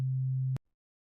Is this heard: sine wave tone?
yes